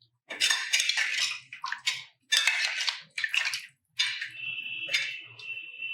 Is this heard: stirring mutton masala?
yes